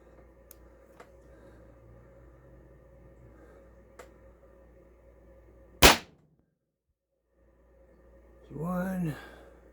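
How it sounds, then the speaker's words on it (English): A single sharp shot cracks from a Pistelle X68 CO2 air pistol with a 14-round magazine and 25g CO2 cartridge, fired down into a barrel. It is close and loud, with a few faint ticks before it and a brief voice afterward. "I'm just shooting down into a barrel, so not important. I just want to see how many shots we're going to get here."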